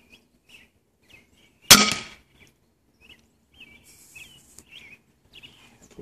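A single sharp, loud release from an Excalibur Matrix Mega 405 crossbow being shot outdoors, a snapping crack with a brief decaying rattle, set among quiet surroundings with faint bird chirps afterward.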